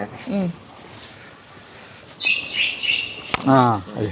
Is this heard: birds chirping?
yes